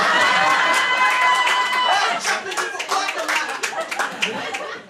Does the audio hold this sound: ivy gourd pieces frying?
no